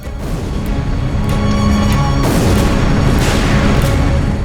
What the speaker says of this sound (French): Le 21 octobre, 650 canons français ouvrent le feu sur les lignes allemandes.